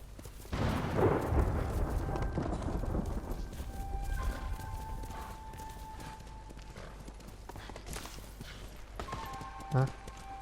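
Horse hooves pound in a steady galloping rhythm in the video game Ghost of Tsushima, with a whinny near the end and someone talking over much of it.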